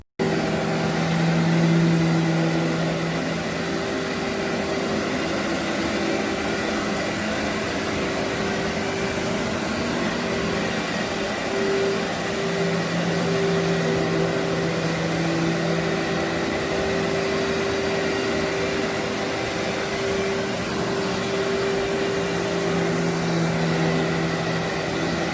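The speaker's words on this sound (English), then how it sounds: "I'm about to pre-vac and show you guys how much I get out of the carpets with the Workhorse" A Workhorse carpet cleaning machine vacuums dry soil from carpet, a loud, steady motor whine with a constant drone and faint tonal hum running unbroken throughout, no talking.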